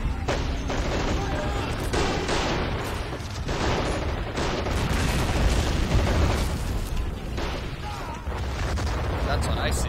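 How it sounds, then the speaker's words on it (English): Artillery fire rumbles through a World War II battle with German tanks in Men of War Assault Squad 2, a continuous loud wash of booms, blasts and distant gunfire with no pause. "There goes the artillery. The artillery's still shooting up."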